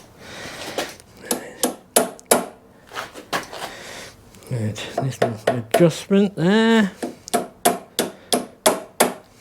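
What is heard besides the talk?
hammer knocking a pin into a lever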